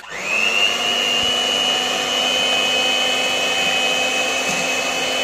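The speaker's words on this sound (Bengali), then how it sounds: "চলো আমি একটু এটা ব্লেন্ডারটা করে নিই।" Electric blender mixing batter for a steamed cake (bhapa cake), spinning up quickly into a loud, steady high whine that holds without a break.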